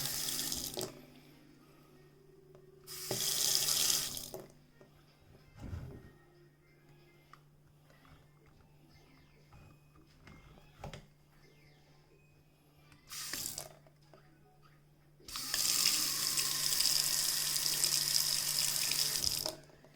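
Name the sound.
water running from newly installed single-handle kitchen faucet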